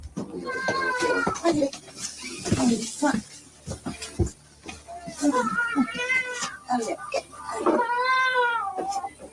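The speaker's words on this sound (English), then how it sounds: "Oh, that's the cat." A house cat meows repeatedly in an indoor room, giving several drawn-out, rising and falling cries at close range, some of them strained and wailing, with only short pauses between them.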